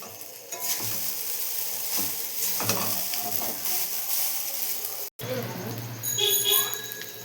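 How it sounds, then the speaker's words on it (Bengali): Pasta tossed with fried potatoes in a pan, a steady sizzle under scraping stir strokes, briefly cut off near the end before the frying resumes, while someone talks over it. "এবার একটু নাড়াচাড়া দিয়ে"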